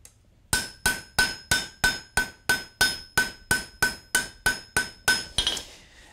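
A rapid run of ringing hammer strikes breaking the corners of hot steel on an anvil, roughly fifteen evenly spaced blows after a short quiet start, close and clear.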